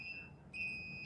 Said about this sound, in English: acknowledge troubles that come in just to stop the beeping so that you guys can hear me